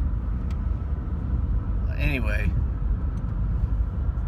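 Steady road rumble of a car in motion, heard from the passenger seat, continuous and fairly loud throughout, with someone talking over it.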